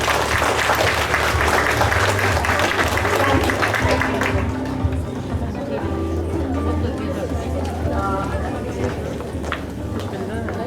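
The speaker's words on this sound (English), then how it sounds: "So big round of applause for our wonderful team." School staff and parents at a class 6 and 7 parent orientation clap for the teaching team: dense, steady applause fills the first four seconds, then thins into scattered claps beneath crowd chatter and talking.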